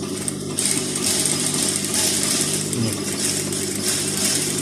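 An industrial sewing machine fitted with a wheel presser foot stitches stretch T-shirt fabric, giving a steady, close mechanical whirring and clatter that runs continuously throughout with no talking.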